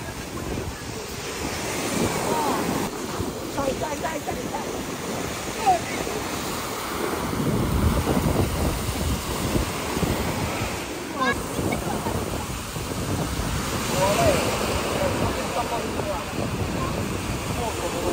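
A rough, choppy sea keeps up a continuous roar of surf with strong wind buffeting the microphone. The waves swell and ease in loudness, and voices can be heard faintly under the noise.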